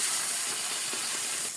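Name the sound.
blended onion added to ghee and flour in pan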